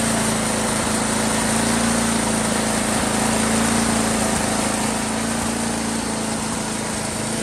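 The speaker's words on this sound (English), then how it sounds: "I tuned up my snowblower. This thing's 11 horsepower." A tuned-up 11 horsepower Craftsman snowblower engine runs steadily and loudly up close, a continuous droning hum with no talk.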